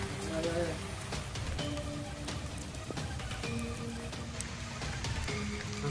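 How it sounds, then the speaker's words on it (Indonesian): Rain falls outdoors in a rocky valley near a mountain cave, a steady, even patter over a low rumble, with faint voices and a few thin tones here and there. "Suasana juga agak hujan."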